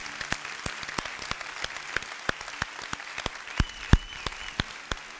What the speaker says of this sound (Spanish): Si vas a dar un aplauso, dales un aplauso a Jesucristo.